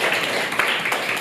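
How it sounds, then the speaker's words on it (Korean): A Korean church congregation at a Sunday daytime worship service claps together in a dense, steady burst of applause lasting about a second. "복 받으라고 우리가 박수 한번 쳐요."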